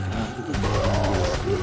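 TMP submachine gun firing in Resident Evil 4, rapid bursts of gunfire over game noise, loud and close, packed into a short stretch.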